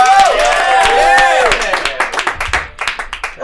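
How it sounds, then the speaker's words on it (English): A comedy club audience at a live show cheers and whoops, then breaks into loud, close clapping that grows choppier toward the end. "Give a round of applause for Tito!"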